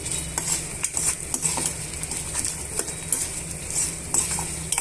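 Dry red chillies and peanuts roast in a pan for a okra chutney, giving a steady dry rattle with repeated scrapes and clinks of a stirring spoon against the metal.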